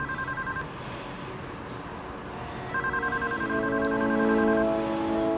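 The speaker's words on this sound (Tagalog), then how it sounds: "Huwag mong sasagutin ang telepono." A telephone rings in a drama scene with an electronic warbling tone in repeated bursts, steady and fairly loud, over a low background hum with another tonal sound rising near the end.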